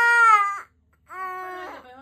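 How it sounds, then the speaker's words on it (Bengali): A young girl cries in two sobbing wails with a short breath gap between them, close and loud, while getting her ears pierced. "তুমি কাঁদে না কাঁদে না সোনা"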